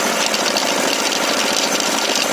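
A gas-fuelled walk-behind tractor engine runs steadily at close range, a continuous broadband drone with a rough, slightly knocking texture and no talk.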